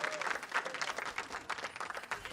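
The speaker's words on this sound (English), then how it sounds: "Give a round of applause to yourself in the Riot Games Arena." Arena crowd at the LCS playoffs in the Riot Games Arena applauding, a dense, steady patter of many hands clapping at moderate distance, fairly soft and continuous with slight swells.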